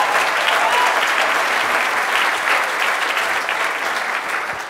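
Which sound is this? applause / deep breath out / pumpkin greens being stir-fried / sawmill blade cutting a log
applause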